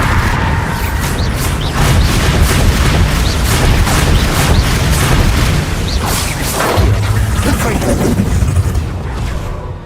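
A Bombarda blasting spell detonates in Hogwarts Legacy, a loud continuous rumble of booming explosions with crackling bursts and debris filling the whole stretch, with game voices faintly mixed under it.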